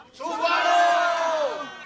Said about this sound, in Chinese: 就在全车人员欢呼声中，幸福区里一日游欢乐出发